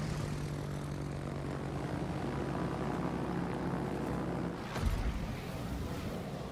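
Engine drone of a big propeller plane in a video game, a steady droning hum throughout, briefly interrupted near the end by a short burst of broadband noise.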